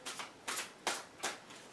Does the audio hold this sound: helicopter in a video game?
no